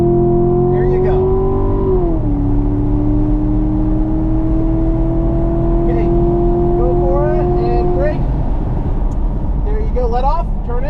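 A car engine drones and climbs in pitch as it accelerates on a race track, loud and close, with the tone dipping at a gear change before rising again under an instructor's talk.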